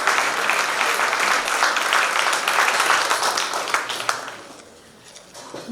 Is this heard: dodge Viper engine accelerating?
no